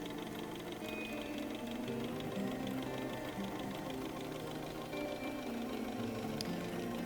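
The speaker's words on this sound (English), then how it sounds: "so let's wind up another bobbin" A domestic sewing machine winds a bobbin with a steady, continuous whirring hum that holds at an even pitch and loudness throughout, close by with no talking.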